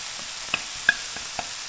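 Leeks hitting a hot frying pan give a steady hiss, with a few light clicks and scrapes breaking through it. No one speaks.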